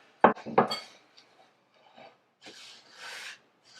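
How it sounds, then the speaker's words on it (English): A utensil scrapes and clinks against a bowl while unsweetened coconut mixture is stirred, a few quick close scrapes at first, then softer, scattered rubbing sounds with gaps of quiet. "Just gonna stir this to combine."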